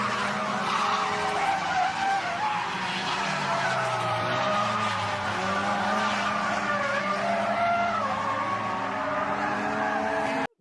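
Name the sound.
car spinning out with tyre skid, video game drifting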